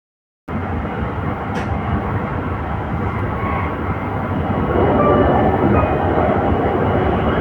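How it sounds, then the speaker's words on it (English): A train rumbles through a station after a brief silent start, a continuous loud roar of rail noise with faint squeals, building slightly louder toward the end. "I'm on the train station."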